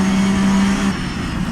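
Porsche Supercup race car from Assetto Corsa, 2017 season, its engine droning loud and close at a steady high pitch before easing off briefly as it shifts up a gear.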